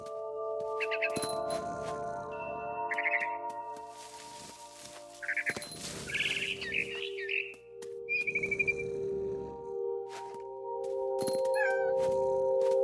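A cat meows a few times in the video game What Remains of Edith Finch, mixed with twittering bird calls over a sustained ambient tone and soft background rumble.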